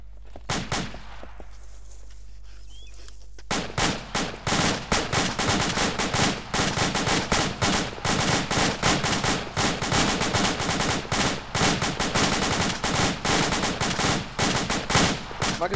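Sustained suppressive gunfire from a squad training drill rattles in dense, overlapping bursts after a few seconds of quieter lead-in, loud and near, continuing without letup to the end.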